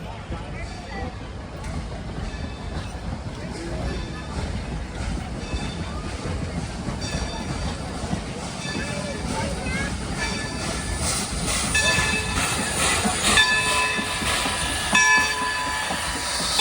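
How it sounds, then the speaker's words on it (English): Locomotive passing on a run-by at Scranton Railfest, its whistle taken from a Canadian National 2-8-2, with steady rumbling and clanking that swells toward the end, faint tonal whistle notes, and people talking nearby. "Whistle on this locomotive was taken off the Canadian National 3254 282 that has run there for a number of years."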